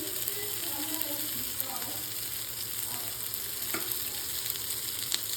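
Eggplant masala frying on a tawa over a low to medium flame gives off a steady, soft sizzle that runs evenly throughout, with a few faint clicks and no talking.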